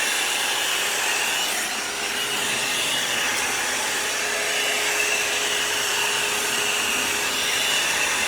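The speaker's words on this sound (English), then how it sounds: "I'm actually going to blow it out so you could see what it looks like blown out." A hair dryer blows out long layered hair, a loud, constant close-up whoosh of rushing air with faint rubbing as the hair is brushed and moved, no talking.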